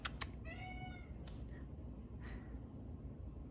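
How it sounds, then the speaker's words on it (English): A pet cat meows two or three times, clear and fairly close, over steady household background noise; an indoor home setting with faint rustling and no speech. "He loves to meow at us"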